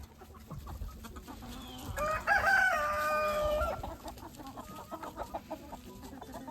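Chickens cluck and a rooster crows loudly in the middle as they are let out of their pen, with scattered bird noises and rustling before and after.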